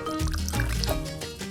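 Cooking oil poured out in a short, steady liquid trickle lasting a second or so, close and fairly quiet, with no talk over it.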